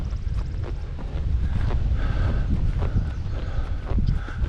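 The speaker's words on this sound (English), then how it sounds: "there's this beautiful breeze. You can probably hear it on camera." A steady breeze rushes across open cow pastures along the Appalachian Trail, a continuous breathy roar close to the microphone with faint scattered knocks beneath it.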